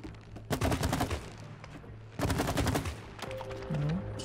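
Guns fire in the video game It Takes Two in three loud bursts of rapid, crackling shots separated by short pauses, with low game ambience underneath.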